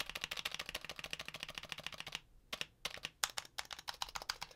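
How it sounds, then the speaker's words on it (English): Rapid typing on a mechanical keyboard fitted with Phantom keycaps and lubed stabilizers, close and crisp, with a steady burst of clacks, a short pause, then more scattered and quicker keystrokes. "I love these Phantom keycaps, and I love this keyboard."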